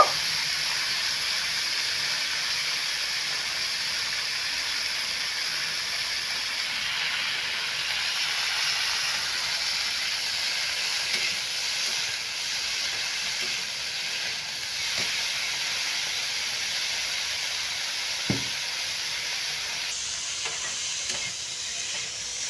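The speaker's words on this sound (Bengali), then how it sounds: "ফুলকপিটা দিয়ে আমি একটু ভেজে নেব" Cauliflower frying in a pan gives a steady, fairly loud hiss and sizzle with little change across the stretch, broken by a few faint knocks and one sharper clink near the end, with no talking.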